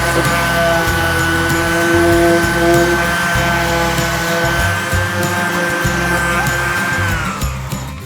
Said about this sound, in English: We're gonna do some sanding now,